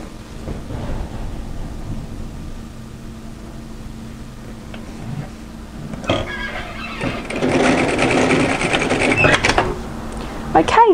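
A domestic sewing machine runs a few quick stitches forward and back while finishing a crossover cowl top seam, a dense mechanical whir that swells louder in the second half over a low steady hum.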